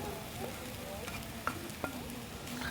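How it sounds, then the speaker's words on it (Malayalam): A spoon stirs mashed cooked prawns with garam masala in a hot pan, soft scraping and gentle sizzling with a couple of sharper taps against the pan, fairly quiet and close. "ഇനി ഇത് എല്ലാം കൂടി നന്നായിട്ട് മിക്സ് ചെയ്ത് കൊടുക്കുക"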